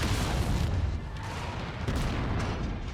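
Rapid autocannon fire pounds at a slow, lumbering Urban Mech in MechWarrior 5 Mercenaries, a dense, loud barrage of booming shots that runs continuously with no pauses.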